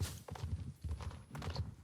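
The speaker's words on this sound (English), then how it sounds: "Here are the horses." Horse hooves clip-clop at a steady walking rhythm in a video game, a few close, soft thuds repeating with short gaps between them.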